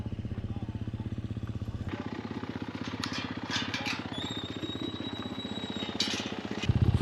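A motorbike engine chugs nearby with a rapid, even pulse on a countryside walk in Swaledale, North Yorkshire, steady and moderately loud, with faint bird chirps above it.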